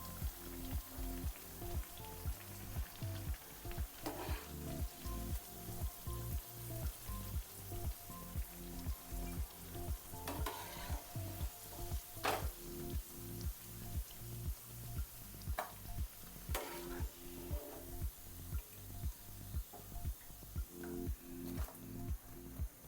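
Dal vadas (paruppu vadai) deep-fry in hot oil, giving a quiet, steady crackling sizzle with a faintly pulsing texture and occasional sharper pops, with no talk over it.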